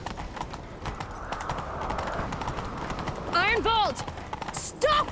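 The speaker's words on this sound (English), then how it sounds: "Grab a horse, we'll chase him down." A horse galloping in The Witcher 3, rapid rhythmic hoofbeats clip-clopping close by, then a loud whinny near the end, with voices talking over the hooves.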